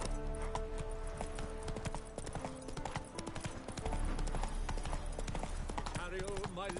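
Horse hooves clip-clop steadily in The Witcher 3, a continuous close rhythm of hoofbeats under game music and ambient sound, with voices talking over it.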